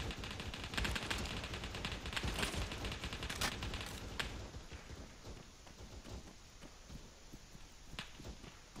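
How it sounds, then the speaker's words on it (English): Gunfire in a military shooter game: dense bursts of shots and rattling automatic fire overlap continuously at moderate loudness, with scattered sharper cracks over a busy battle background. "copy, I'm under heavy fire for the moment."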